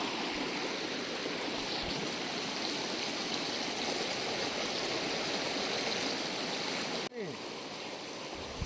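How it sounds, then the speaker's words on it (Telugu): Water from Rani Duduma waterfall streams steadily past, a continuous broad rushing flow close by that holds constant for most of the stretch, with a brief dip near the end. "ఈ వాటర్ ఫాల్ నుంచి వచ్చిన వాటర్ ఇక్కడ పారుతూ ఉంది"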